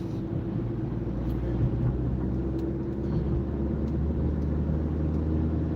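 A car cruises along a highway in steady traffic, giving a continuous low road and engine rumble with broadband tire noise that holds evenly throughout, with no talk.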